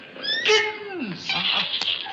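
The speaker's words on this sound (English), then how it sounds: "4 pretty little kittens." Kittens give high, thin mewing cries, several short wavering meows close together in a quiet room, with a voice audible alongside.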